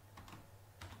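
Short burst of typing on a computer keyboard, a few quick close keystrokes in two small clusters over a low steady hum, with no talk.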